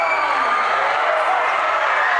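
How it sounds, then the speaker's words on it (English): A steady wash of crowd applause fills a high school gym for a player at the MIAA Boys Division 3 basketball quarterfinal, Dover-Sherborn at Old Rochester. An announcer talks over the clapping throughout. "big round of applause for him"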